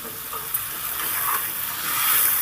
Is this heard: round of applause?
no